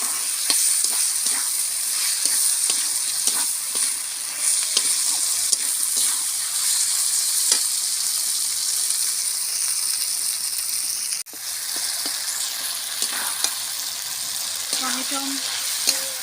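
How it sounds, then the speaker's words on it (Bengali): Chopped tomatoes fry in a pan with ginger-garlic paste, giving a continuous close hiss and sizzle with soft stirring scrapes. Near the end the sizzle briefly drops and then picks up again. "এবারে আমি টমেটোগুলো দিয়ে দেবো,"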